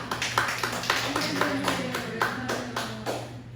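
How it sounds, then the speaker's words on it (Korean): A congregation claps together during a Korean Wednesday church service, a steady run of fairly faint, evenly spaced hand claps heard at a distance. "우리 박수 한번 칩시다."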